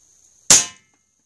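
A single sharp shot from an Airforce Escape UL .22 air rifle firing an 18.13 grain JSB Jumbo Heavy pellet, a loud close crack with a quick decay after a faint hiss.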